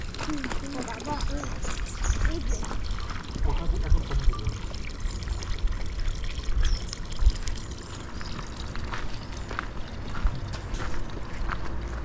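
Water flowing through a canyon gorge at Grindelwald in the Swiss Alps, a steady broadband rush with trickling texture, continuous with people talking over it.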